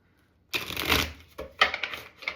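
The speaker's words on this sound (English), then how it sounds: "Just spread our deck." A shuffled tarot deck is spread out by hand, making a quick, close riffling swish after a moment of silence, then a second shorter flutter of cards.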